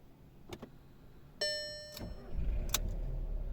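A 2010 Seat Ibiza FR with a 1.4 engine and automatic gearbox starts up after a few faint clicks: a short starter whir, then the engine catches and settles into a steady low idle close by.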